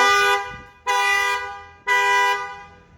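A 2016 Ford Focus alarm blares the car horn three times in long, loud blasts about a second apart, each cut off sharply, with no voices.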